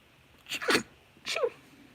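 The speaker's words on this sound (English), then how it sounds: "Got the sneezes." Two quick sneezes in a row, close and sharp, separated by a brief pause, with near silence around them.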